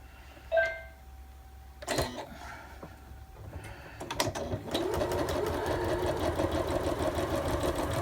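A sewing machine stitches a quarter-inch seam on a quilted Santa pot holder, starting with a few clicks and handling knocks, then running in a steady, close, loud whir for the last few seconds; no talking.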